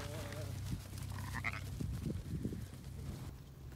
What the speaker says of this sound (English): This is the sheep in the Dale field.